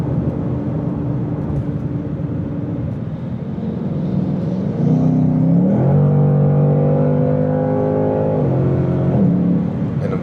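A Mercedes AMG car accelerates hard nearby, its engine note rising and climbing through gears in a loud, sustained roar, heard from inside a moving Mustang GT with steady road noise beneath.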